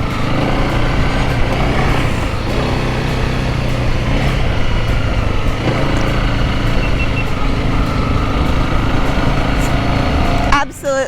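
A motorbike rides down to the beach on a family trip from Cairns to Cape York, Australia, its engine a steady, loud drone with wind rush that holds constant and ends in a brief sharp noise.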